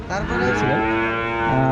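At the Rajshahi city cattle market, a large cow gives one long, loud, close moo that wavers in pitch before settling into a steady low drone.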